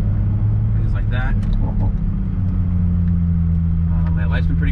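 Bagged Toyota Mk5 Supra driving, a loud continuous low engine rumble heard from inside the car, steady throughout, with intermittent brief higher-pitched noises over it.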